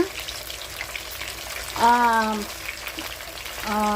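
Salmon belly frying in a pan, a steady crackling sizzle with stirring, broken by two short tonal scraping squeaks of a utensil against the pan.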